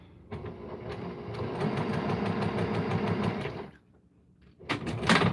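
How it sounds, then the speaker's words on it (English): A home sewing machine runs in a steady, fast mechanical whir for several seconds, stops briefly, then starts again for a short burst, close and clear with no talking. "I'm going to get to sewing."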